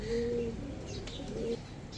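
Pigeons coo softly at a seller's stall, two short low cooing phrases close by in a quiet setting.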